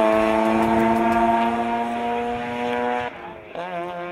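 Race car at full power climbing the hill toward the corkscrew at Laguna Seca, a steady loud engine drone with a strong held pitch, briefly dropping as it shifts near the end before pulling again.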